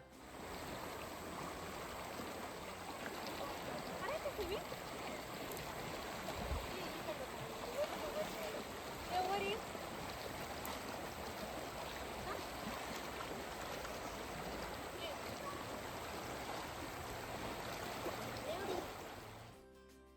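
A continuous rushing wash of flowing river water fills the scene, steady and broad, with faint voices of children swimming mixed in, in Paris, Canada.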